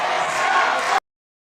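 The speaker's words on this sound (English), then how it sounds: "You can hear the crowd." Crowd roaring and cheering at an MPL Philippines Mobile Legends esports match, a dense, loud wall of voices sustained for about a second before cutting off abruptly.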